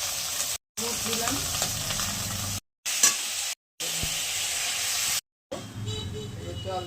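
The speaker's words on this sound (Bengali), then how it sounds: "কালো জিরে ফোড়ন দিয়ে ভেজে নেবো।" Nigella seeds temper in a little hot oil with turmeric for a tilapia and brinjal curry, giving a loud, steady close sizzle and hiss that cuts off in several brief gaps, with faint stirring.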